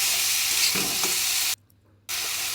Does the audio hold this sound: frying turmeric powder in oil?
yes